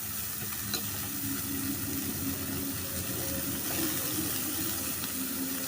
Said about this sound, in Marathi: त्याच्यामध्ये आता मी ही बारीक कापलेली भाजी टाकते